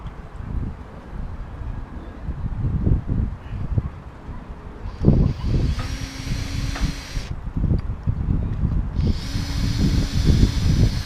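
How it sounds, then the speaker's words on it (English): A power drill whirs in bursts drilling holes in a sailboat's wood-cored deck, rising in pitch as it bites, with short pauses between runs and wind noise in the background. "the only thing to do now is to start drilling some holes"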